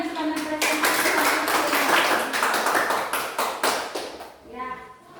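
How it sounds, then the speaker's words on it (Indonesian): A classroom of students gives a brisk round of applause, many hands clapping densely for several seconds before tapering into a few scattered claps. "tepuk tangan buat kelompok 2 yang sudah mempresentasikan"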